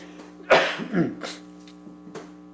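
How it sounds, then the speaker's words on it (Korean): A preacher with a throat irritated by cold wind gives a couple of close, sharp coughs about half a second apart, then quieter throat sounds, over a steady low electrical hum. "나 지금 찬바람 부니까 또 약간 목에 또 기침이 좀 나기 시작해서"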